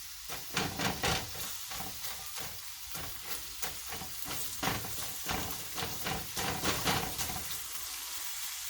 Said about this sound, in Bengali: প্রথমে আমি পেঁয়াজ কুচিটা দিয়ে দিব। চুলাটা বাড়ানো থাকবে।